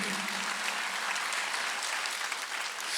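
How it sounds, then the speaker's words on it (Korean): A congregation at a Sunday church worship service claps together in dense, even applause that runs steadily for about three seconds without any speech over it. "박수."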